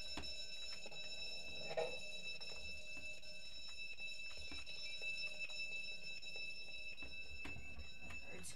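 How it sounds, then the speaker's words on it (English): Alarm bell in a Roblox Jailbreak prison escape, a continuous rapid metallic ringing that holds steady throughout, moderately loud against faint game background noise. "It's great to get away from that bell."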